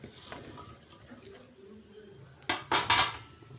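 Jujube (boroi) drops into elephant apple pickle in a pan. After a quiet stretch of faint kitchen sounds comes a quick run of three bright, clattering hits close by.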